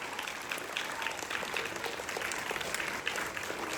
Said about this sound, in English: He deserves this applause.